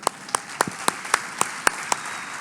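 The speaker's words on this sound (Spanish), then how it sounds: "Vamos a dar un fuerte aplauso." At a Spanish-language marriage congress led by an evangelist, sharp distinct claps ring out one by one at a steady rhythm, about eight in a couple of seconds, over a soft bed of lighter clapping from the audience.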